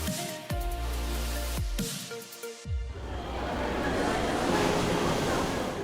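Steady roar of surf and rushing water, broken by a few short low thumps early on, then a continuous broad wash of breaking waves.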